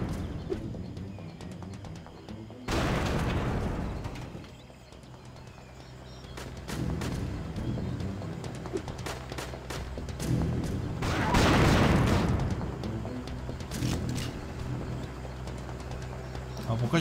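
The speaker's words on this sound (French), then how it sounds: "J'ai lancé une grenade parce que vous voyez, ben, il y avait des mines." Video game explosions from Tiny Troopers 2, as a grenade lands among mines, give two loud, broad bursts amid a steady bed of gunfire and battle noise.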